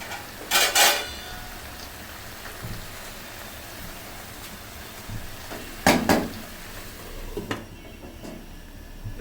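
A lid goes onto a pot of chicken cooking in milk, giving a couple of sharp metallic clanks with softer clinks between them over a low background hiss.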